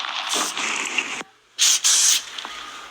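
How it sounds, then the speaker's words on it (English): Two bursts of aerosol spray hiss loudly, each lasting about a second, separated by a short pause. "I had to spray."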